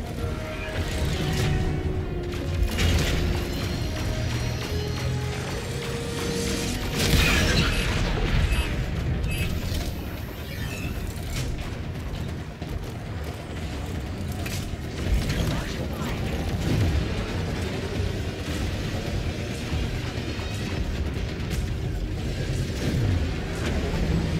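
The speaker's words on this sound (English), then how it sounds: "Oh, he said forward artillery. I guess that's going to be the big gun" The forward artillery big gun on a Railjack ship in Warframe fires with heavy booms and mechanical clanks amid continuous loud game noise, in a space battle near Neptune Proxima.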